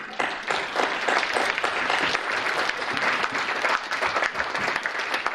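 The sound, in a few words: audience applause welcoming Professor Indrani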